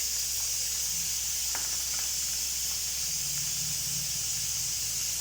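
Garlic paste frying in hot oil in a pan, a steady loud hiss and sizzle running continuously throughout with no talk.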